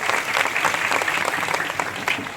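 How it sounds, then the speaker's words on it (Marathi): Audience clapping together at a kirtan gathering in Watephal village, Nagar, applauding the sound system crew, a dense steady round of hand claps that holds loud and even throughout. "त्यांच्यासाठी जोरात टाळ्या वाजवा."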